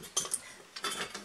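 A spatula scrapes and taps against a bowl as it scoops strawberry cheesecake mixture, making a few quiet clinks in two short bursts.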